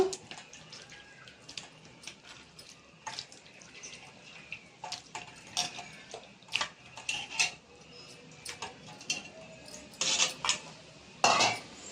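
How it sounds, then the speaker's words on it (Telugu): Raw chicken pieces tossed into a steel bowl with turmeric, chili and salt, giving close, irregular clinks and clatters of metal, soft wet handling sounds and a brief splash of water between the knocks. "చికెన్ వేస్తున్నాను గిన్నెలో"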